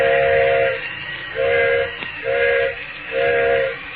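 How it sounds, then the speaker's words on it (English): A steam train whistle used as a radio drama sound effect blows four long, even blasts separated by short gaps, loud and steady over a low rumbling background, with no voices. "Engineer's whistling for a flag man."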